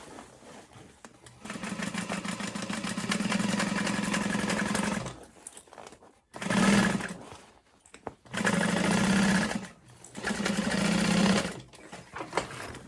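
A sewing machine stitches through the lining fabric of a dragon-shaped sling bag in three long bursts with short pauses between, its steady motor hum close and loud.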